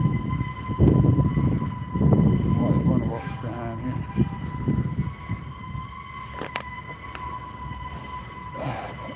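A train pulls out of a depot, its wheels squealing with sustained high tones and a low rumble that gradually fades as it moves away, while a person talks briefly nearby.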